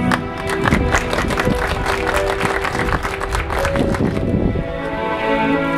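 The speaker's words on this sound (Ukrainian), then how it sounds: "Ваші овації." Applause from an audience at an outdoor wedding ceremony, steady clapping with scattered cheers carrying on for several seconds, fairly close and full, with faint background music under it.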